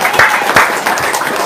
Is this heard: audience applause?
yes